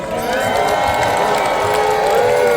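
Festival crowd at a Renaissance fair cheering and whooping for a jousting knight in the lists, a loud, sustained roar of many voices with shouts rising throughout.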